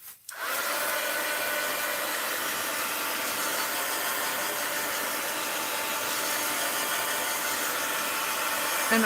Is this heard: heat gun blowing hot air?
yes